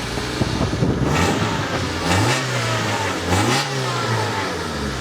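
The engine of a two-door car starts up and revs repeatedly, loud and close, with rising and falling pulls between rough idle.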